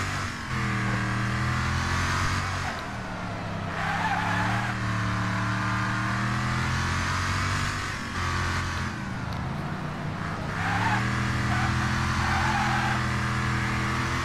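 Racing cars in the Wreckfest video game, engines revving and rising in pitch through repeated gear changes, loud and close, with tyres skidding and a crowded pack of cars roaring together.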